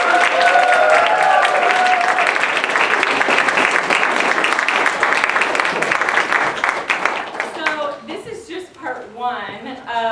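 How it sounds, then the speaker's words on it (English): A crowd of parents and audience applauds the first and second graders after a school musical, sustained clapping loud and full at first, then thinning into scattered claps with a few voices breaking through near the end. "our first and second graders need another round of applause"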